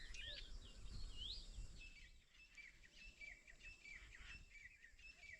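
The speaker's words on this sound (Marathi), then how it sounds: "पक्ष्यांचा चिवचिवाट आहे" Several birds chirp and twitter faintly in a quiet, foggy morning outdoors, high calls repeating over a soft low background hum.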